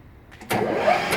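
A lathe spindle spins up with a drill bit held in the chuck, the motor starting abruptly partway through and settling into a steady, fairly loud mechanical whir with no talking.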